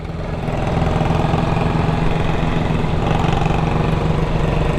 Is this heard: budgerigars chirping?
no